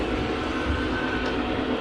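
Small model train rolling past on a large layout, a brief steady rumbling rush with broadband rail noise, fairly close and without talk.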